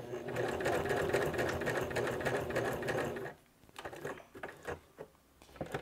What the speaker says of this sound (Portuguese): vou costurar na diagonal até chegar